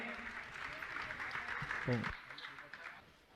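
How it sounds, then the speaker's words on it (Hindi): Applause from an assembled audience at a Jain religious gathering, honoring a patron family, sounding as a steady moderate patter of many hands under a voice that speaks over it. "आप जोरदार ताली बजाकर का सम्मान करें"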